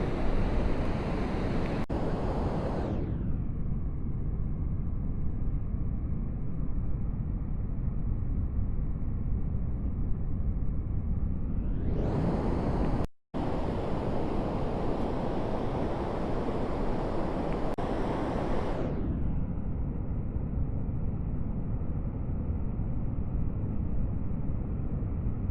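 Ocean surf at Salmon Creek State Beach near Bodega Bay rolls and breaks in a steady, loud roar, with wind buffeting the microphone and a brief cut partway through.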